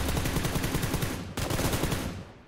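Rapid automatic gunfire from a PUBG Lite squad match on the Miramar map, a dense rattling burst that continues almost without pause, briefly cutting out once before resuming and then tapering slightly.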